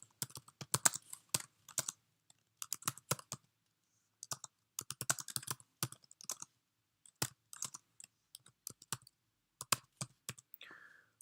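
Close, steady keyboard typing on a computer, arriving in quick bursts of clicking keystrokes separated by short pauses, with no voices present.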